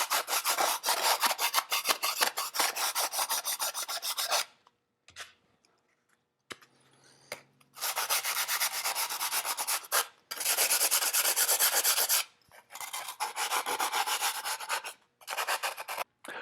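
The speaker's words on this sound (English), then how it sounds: "finish it with a sanding block," A sanding block rubbing along the edges of a carbon fiber part in long, loud rasping strokes, broken by short pauses and quiet gaps.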